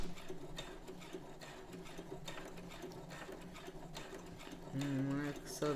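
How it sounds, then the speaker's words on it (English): A Brother CS7000X sewing machine back stitches a small area of a collar, running in quick mechanical bursts close by, with a person talking over it and a louder whirring spell near the end. "it's just gonna back stitch a little bit because it's just a little area that we have to sew"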